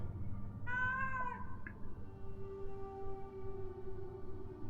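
A cat meows once in the video game Ghostwire Tokyo, a short, clear, fairly close call over a low, droning ambient game background, with no talk.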